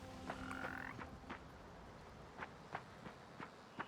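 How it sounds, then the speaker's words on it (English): Frog croaks from a video game's forest area, a series of short, moderately faint croaks spaced irregularly over a quiet ambient background, with no talking. "And I definitely heard a frog."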